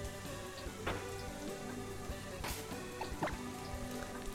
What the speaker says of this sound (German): Draußen ist gerade wieder Weltuntergang. Monsun, Gewitter, alles.